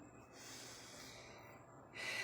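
Deep breathing during a guided breathing exercise: a soft, close, airy breath is drawn slowly and held through, then ends in a stronger, sharper rush of air.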